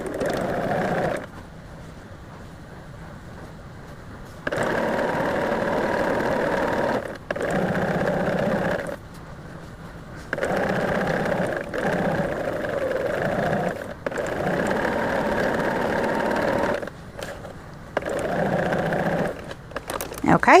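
A sewing machine stitches quilt pieces in bursts of steady whirring, several runs of a few seconds each separated by pauses, near and moderately loud.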